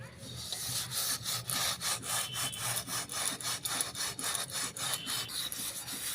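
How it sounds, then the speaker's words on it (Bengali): A ten-year-old kadai is scrubbed with a steel Scotch-Brite wire scrubber and water, making close, rhythmic rasping back-and-forth strokes, roughly two or three per second, with no talking. "এই যে স্কচ ব্রাইট, যে স্টিলের যে স্কচ ব্রাইট পাওয়া যায়, এইটা দিয়ে আমি এটাকে এবারে একটু ঘষে দেব।"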